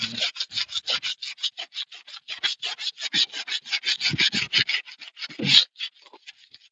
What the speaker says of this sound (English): You're just scuffing the clear coat off pretty much.